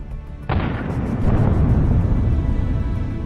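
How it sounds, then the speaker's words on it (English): A landmine detonating under a retreating tank in a dense minefield, heard as a sudden loud explosive blast followed by a rumbling, sustained roar of debris and echo. "There were as many as 5 explosions."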